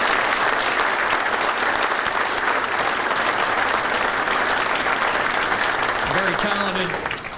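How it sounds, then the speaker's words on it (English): A banquet crowd at a fire department promotions and retirements event gives sustained, loud applause for the Baden High School chorus, with dense clapping that fades slightly near the end as a voice begins. "how about a round of applause for the Baden High School chorus who sang so beautifully for us earlier"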